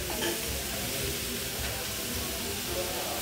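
Beef sausages sizzle steadily in a pan, a continuous close frying hiss with faint crackle and no talk.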